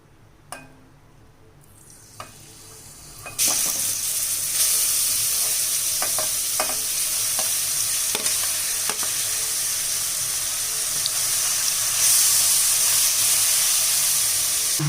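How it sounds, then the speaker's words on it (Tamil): Grated pumpkin sautéing in ghee in a pan for halwa: after a few quiet clinks, the food goes in and a loud, steady sizzle begins, with occasional scraping stirs over the continuous hiss. "இப்போ இந்த நெய்யிலே நம்ம திருவி வச்சுருக்கிற பரங்கிக்காய் எல்லாத்தையும் சேர்த்து நல்லா வதக்கிக்கலாம்"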